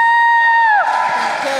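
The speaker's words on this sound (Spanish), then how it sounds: "un aplauso para Yaha." A loud studio audience bursts into cheering and whoops after a brief sustained tone, the noise of many voices filling the rest of the clip.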